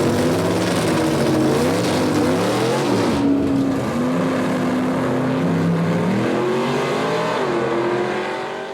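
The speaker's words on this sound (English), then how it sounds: "J.D. Swan making his first pass on his Joe Lapone Jr. Nostalgia Pro Stock Tribute Camaro" A Nostalgia Pro Stock tribute Camaro makes a quarter-mile drag racing pass at Gainesville Raceway, its loud engine roaring and climbing through gear changes, with a brief drop in pitch midway, then fading slightly as the car pulls away.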